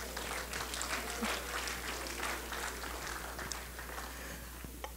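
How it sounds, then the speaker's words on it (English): A church congregation clapping during a Sunday sermon, a dense, fairly distant patter of many hands over a low steady hum, continuing evenly throughout. "let's clap unto the Lord."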